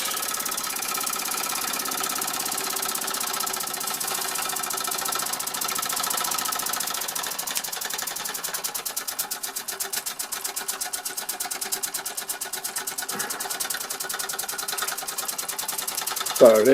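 A 1905 Fritz Neumier stationary engine runs steadily indoors, a rapid rhythmic mechanical chugging and clattering that keeps on throughout, echoing a little in the room, with a brief louder knock near the end.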